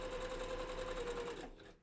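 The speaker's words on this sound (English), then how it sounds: "Of course, this is all with my sewing machine." A sewing machine runs a steady zigzag stitch along the edge of a fabric fursuit bandana, humming loud and close with a fast mechanical rattle that winds down at the end.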